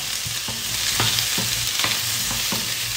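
Chili sautés in a hot pan while eggplant waits to be mixed in for ratatouille, a steady close sizzle broken by several regular stirring scrapes, with no voices.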